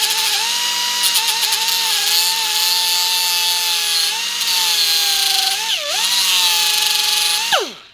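A small grinder works on pieces of a roll bar, a steady high whine holding loud and close for several seconds, pitch dipping briefly under load before spinning down at the end.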